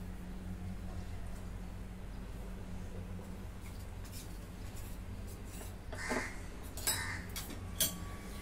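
A spoon mixes custard powder into a paste with milk in a small vessel, heard as soft rubbing and scraping over a low room hum, with a few light metallic clinks near the end.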